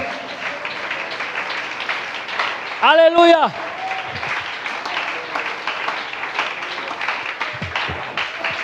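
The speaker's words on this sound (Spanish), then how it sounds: "¿Por qué no le da más fuerte ese aplauso al Señor?" A church congregation applauds in a steady, dense patter throughout, with a preacher's voice briefly rising in a sung shout partway through and scattered voices underneath.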